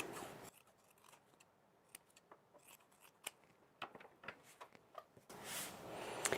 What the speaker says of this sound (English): I'm going to go ahead and trim these edges